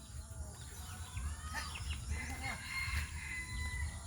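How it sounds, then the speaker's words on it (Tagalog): Hens cluck softly and intermittently nearby, with a rooster crowing faintly in the background and a steady low rural hum underneath. "Ito na lang yung mga manok ko guys."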